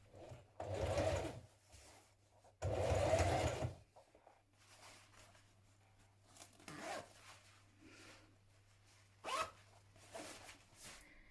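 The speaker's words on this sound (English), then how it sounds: "we're going to stitch down this side on the top and then pivot and along the bottom here and secure it" Sewing machine stitching children's dungarees fabric in two loud, sustained bursts of motor whirring, each about a second long, followed by quieter handling and rustling with a steady low hum underneath.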